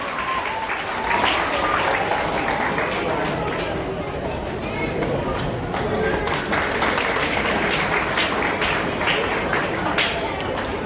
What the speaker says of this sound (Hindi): कम से कम एक बार और जोरदार तालियां बजा दीजिए आप लोग